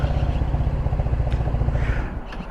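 GY6 150cc scooter engine with a new exhaust idling around 2,000 RPM, a low uneven putter that hiccups and stumbles, close and fairly loud, fading briefly at the end.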